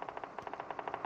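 Rapid automatic gunfire from the PC version of the game PUBG rattles off in a quick, even burst of about a dozen shots, fairly faint and with no talk.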